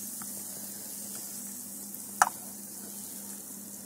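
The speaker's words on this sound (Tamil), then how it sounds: "இப்போ பூண்டும் பிரண்டையும் நல்லா வதங்கி வந்துருச்சு பாருங்க." Garlic and pirandai (adamant creeper) cooking in oil: a soft, steady sizzle continues throughout, broken by one sharp clink of a utensil against the pan near the middle, with no voices.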